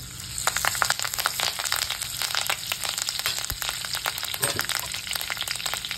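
Mustard seeds, cumin and curry leaves sizzling and spluttering in hot oil, with dense crackling pops and bursts over a continuous fry, close and fairly loud, no talk.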